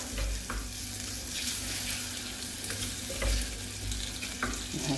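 Small diced tomatoes dropped into garlic sizzling in a pan, frying with a steady hiss and crackle close up, with a few soft stirring knocks; no talking.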